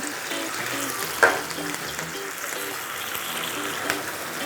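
White wine and water hit a hot pan of grunt fish and clams for acqua pazza, a continuous close sizzle and bubbling with a brief louder splash early on and a small clink near the end.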